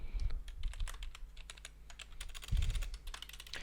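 Typing on a computer keyboard, heard as close, quiet, rapid clicking keystrokes in an uneven stream over a low steady hum, with a slightly heavier flurry of keys partway through.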